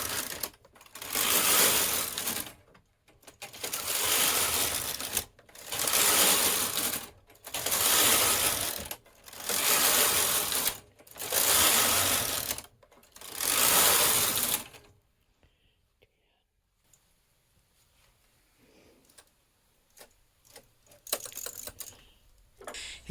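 A domestic knitting machine carriage is pushed back and forth across rows, making six loud mechanical sweeps of rattling, whirring clatter separated by brief pauses, followed by quieter handling noises.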